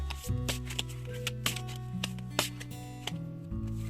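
Oracle cards are shuffled by hand in a repeated series of soft riffling snaps and papery slides, close and steady, over a faint sustained musical tone underneath.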